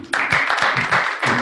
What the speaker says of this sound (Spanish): vamos a aplaudirte antes que te vayas